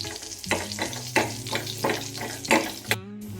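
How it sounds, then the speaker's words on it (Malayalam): Cashews and raisins fry in about one and a half tablespoons of melted butter in a pan, a loud close sizzle broken by rhythmic spatula strokes roughly every half second, ending in a clatter. "കാഷ്യൂനട്ടും കിസ്മിസും വറവായിട്ടുണ്ട്."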